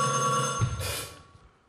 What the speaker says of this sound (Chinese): 电话啦。